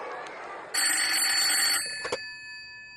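A telephone bell rings in one loud, sustained burst, followed by a couple of sharp clicks and then quiet.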